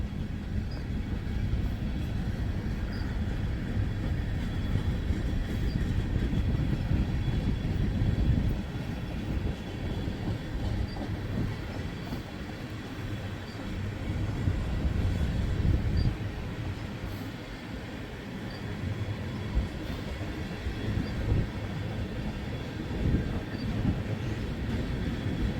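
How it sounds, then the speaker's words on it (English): A Wheeling & Lake Erie train runs fast past a grade crossing, its steady loud rumble and wheel noise continuing without a break and no voices heard. "Now this time the train's running a lot faster."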